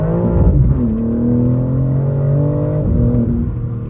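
A 900 bhp BMW M4 with traction control off accelerates hard at night, its engine note climbing loud and close through the gears, with a brief dip at a shift before revving up again.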